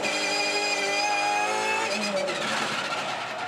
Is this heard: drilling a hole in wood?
no